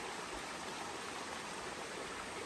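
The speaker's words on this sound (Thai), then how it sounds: "ที่นู้นมันจะมีลำธารด้วยนะครับ" A forest stream flows with a constant, quiet rushing burble of water that stays even throughout.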